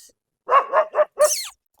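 A dog barks in a quick burst of three sharp yaps followed by a higher, whiny bark, close by and with nothing else around.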